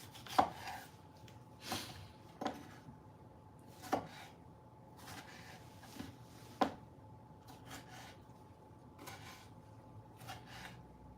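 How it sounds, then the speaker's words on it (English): Knife dicing tomatoes on a cutting board, heard as a series of sharp, irregularly spaced chops and taps close by, with no voices. "When dicing these tomatoes, they don't have to be perfect"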